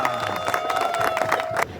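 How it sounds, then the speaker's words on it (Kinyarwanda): Wedding guests at a Rwandan ceremony break into applause and high, wavering ululation from a crowd, a short lively burst that dies down abruptly at the end. "Amashyi n'impundu."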